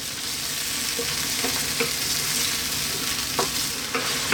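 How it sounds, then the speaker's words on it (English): Tomato sauce sizzles steadily in a frying pan while a utensil stirs it, with soft scraping taps scattered over the continuous close frying hiss. "You can give it a stir every now and then. Really want to cook these tomatoes out a little bit."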